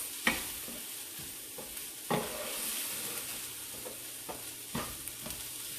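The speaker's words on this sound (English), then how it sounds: "sauteing them with your onions and garlic and ginger is going to do that instead of just putting it right in your sauce" Spices sautéing in a pan with onions, garlic and ginger for a dairy-free chicken tikka masala, a soft steady sizzle broken by several sharp stirring scrapes and clinks, close and fairly quiet.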